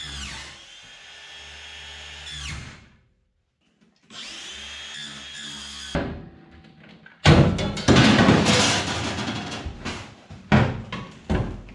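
A power tool whines in short bursts, then grinds harshly through an aluminium boat deck frame to cut out a hole, with clangs and thuds of metal between passes.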